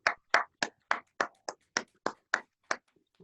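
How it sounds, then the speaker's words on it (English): A round of applause on a talk show, heard as about ten sharp, evenly spaced claps, like one or a few people clapping in steady rhythm, close and fairly loud, then stopping. "Let's give all of ourselves a round of applause."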